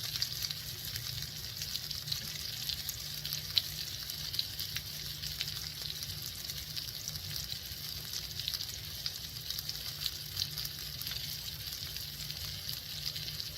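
Blackened salmon frying in a heavy-bottomed non-stick pan, a soft steady sizzle with faint crackles, continuous and quiet with no talking.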